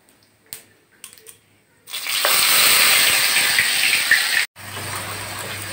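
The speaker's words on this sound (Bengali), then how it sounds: "এবার আমি বেটে রাখা মশলাটা দিয়ে দেব।" Ground spice paste hitting hot oil tempered with bay leaf and cumin for a potato and pea curry, a few faint clinks then a sudden loud, steady sizzle that cuts off briefly and resumes.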